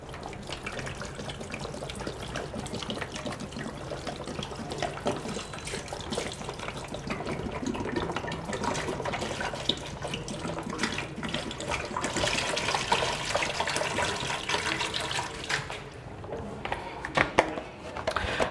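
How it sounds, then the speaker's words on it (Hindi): Two litres of water poured into the jar of a Kangen water machine during deep cleaning, a steady close rushing pour that runs continuously without talk. "जैसे आप देख रहे हैं 2 लीटर पानी मैंने इसके अंदर डाला है।"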